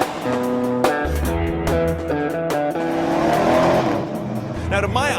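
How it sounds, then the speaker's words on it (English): A 2013 Dodge Challenger SRT8 392 Hemi drives hard, its V8 revving up and down through gear changes with a loud, close engine roar, tires squealing and a voice talking over it. "As we drive the 2013 Challenger SRT8 392 Hemi"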